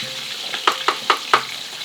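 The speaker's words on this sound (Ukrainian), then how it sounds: "Бачите, ми все робимо у фритюрі." Steady oily sizzling of kazan kebab frying in hot oil in a frying pan, with a few sharp crackles and pops spaced across the second half.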